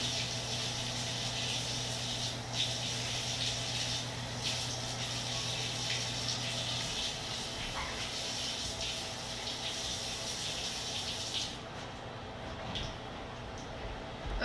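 Tap water runs steadily into a sink while hands are washed beneath it, a continuous close splashing hiss that carries on for most of the stretch before cutting off near the end, with no one speaking.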